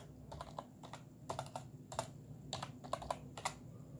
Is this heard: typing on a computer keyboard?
yes